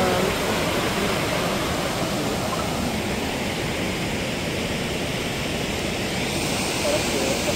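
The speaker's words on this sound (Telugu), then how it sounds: "ఇదిగోండి వాటర్ ఫాల్" Waterfall in a Kodaikanal forest, a dense, constant rushing roar of falling water filling the whole stretch at steady loudness, with no pauses.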